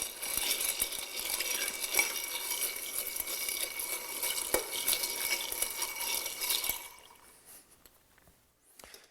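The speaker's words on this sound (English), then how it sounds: "this drink is properly stirred rather than shaken" Bordeaux cocktail stirred with ice in a mixing glass, a continuous close clinking and rattling swirl for about seven seconds that then stops, leaving faint light taps, with no talking.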